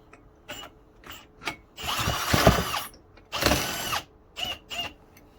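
A power drill whirs in a few short bursts, with two longer runs in the middle and clicks and handling noise between them, used to spin-start a 1968 Briggs and Stratton 2.25hp engine.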